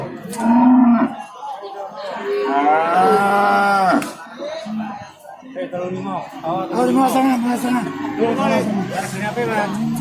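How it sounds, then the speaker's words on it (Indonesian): Several cattle moo loudly and repeatedly at a livestock market in Jatirogo, Tuban, long drawn-out calls overlapping one another, with a bustle of voices and crowd noise around them. "ini kita di deretan sapi babon dan sapi doro"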